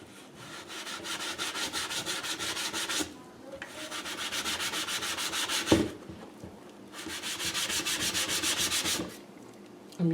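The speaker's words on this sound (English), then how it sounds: "now I'm going to scrub it again" Rhythmic scrubbing of sticky label residue off a reused glass jar with vegetable oil, in two long bursts of fast back-and-forth rubbing separated by a short pause, close and steady, with no talking.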